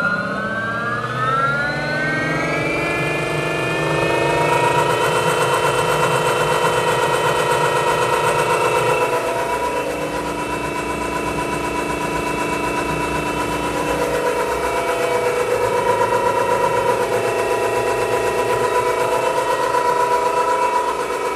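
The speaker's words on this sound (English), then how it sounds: "adjusting lots of throttle to have 100 amps flowing." Revolt RV-160Em brushless outrunner motor run hard at about 100 amps, giving a loud, steady high-pitched electric whine that climbs in pitch as it spins up and then holds, with slight shifts in tone, and no voices.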